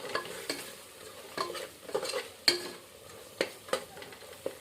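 Chicken curry being stirred in a pan, with scattered scraping clicks of a spoon against the metal over a soft, steady sizzle, close and fairly quiet throughout.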